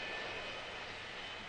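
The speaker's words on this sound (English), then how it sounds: "These commercial planes carry people and mail." Steady, broadband drone of a commercial airplane engine on a plane carrying mail and passengers, continuous and fairly faint throughout, with no voices.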